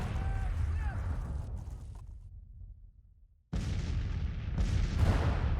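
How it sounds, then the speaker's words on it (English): Civil War cannon artillery firing in the video game Grand Tactician: The Civil War, a couple of heavy booms with rumbling decay, then further sharp blasts near the end over battle ambience. "Yeah, let's spread the cannons out a little bit. Can you open fire?"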